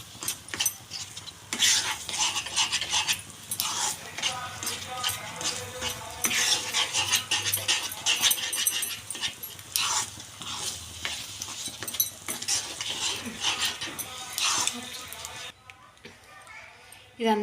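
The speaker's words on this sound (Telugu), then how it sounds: "ఈ ప్యాన్ నుండి దూరం అయ్యే వరకు కలపాలి." Thick semiya vermicelli halwa stirred in a pan, with continuous scraping and clinking of the spoon against metal over a soft sizzle, fading near the end; no talking.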